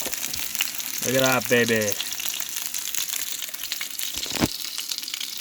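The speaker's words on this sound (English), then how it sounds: "It's gonna start sizzling." Spruce grouse breast sizzles while frying in a pan, a steady crackling hiss that carries throughout, with someone speaking briefly over it.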